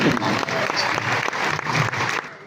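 An audience at a kavi sammelan poetry gathering claps in a brief burst of steady applause that tapers off toward the end.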